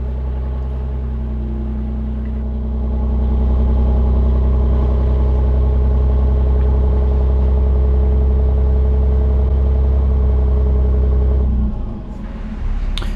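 An articulated dump truck's diesel engine rumbles loud and close as it revs up to raise the tipping body, holding a steady heavy drone for several seconds before dropping back near the end, with no talk.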